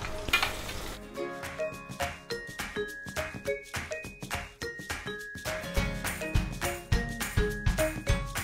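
Vadam being deep-fried in hot oil, a steady close sizzle and crackle with occasional metal utensil clinks and stirring, no talk.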